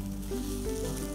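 Fresh green peas sizzling in hot oil in a kadhai for mutter paneer, a loud, continuous close frying hiss with a slight stirring texture.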